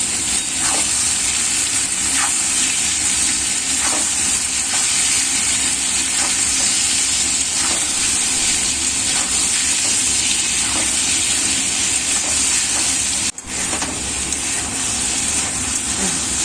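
Onion, garlic and taro stems fry in a pan with a loud, continuous close sizzle, broken by soft periodic stirring scrapes throughout.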